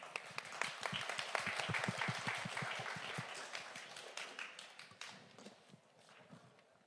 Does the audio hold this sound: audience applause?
yes